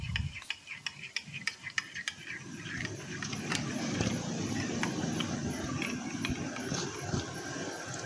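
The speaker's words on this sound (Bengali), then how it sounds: "অন্যদিকে একটা পাত্রে উষ্ণ জল নিয়ে তার মধ্যে দিয়েছিলাম গুঁড়ো দুধ। এখন এটাকে একটু মিক্স করে নেব।" Powdered milk being stirred into a bowl of warm water in a home kitchen, a spoon scraping and clinking against the bowl in quick repeated strokes, then a steadier soft swishing, close and fairly quiet.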